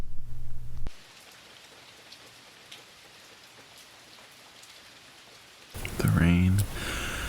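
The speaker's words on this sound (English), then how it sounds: "The rain makes my pain go away." Steady rain falls throughout, a soft continuous hiss of drops, with a brief louder burst of sound near the start and a voice-like passage toward the end.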